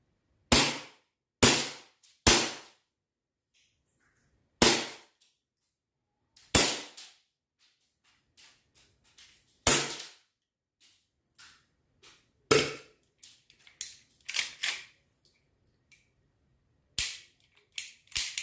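Two airsoft guns firing, sharp isolated snapping shots, first spaced single pops then quicker irregular clusters, close and loud against quiet background.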